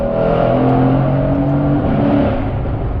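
A 630-horsepower Mercedes C63 AMG engine roars steadily and loudly throughout, revving hard as it accelerates through gear changes, with no voices over it.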